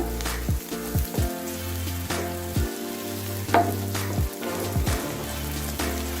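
Garlic and ginger sauté in a hot pan for a paneer butter masala, giving a continuous sizzle and frying crackle. Irregular clatters and scrapes of stirring break through it, with no voices.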